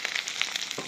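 Potatoes and chillies frying in oil in a wok give a faint, close sizzle. Small pops break out irregularly within a second.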